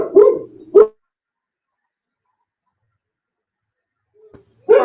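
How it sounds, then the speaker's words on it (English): A dog gives a couple of close, sharp barks, then falls silent for several seconds before barking again at the very end. "She barks at every little thing that moves"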